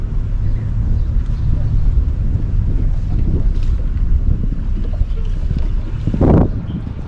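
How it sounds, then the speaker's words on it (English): Gusty wind buffets the microphone while a boat is docked, a steady low rumble throughout with a brief louder gust near the end, alongside engine-like drone. "Got a little bit of wind in here today to make it a little bit more difficult"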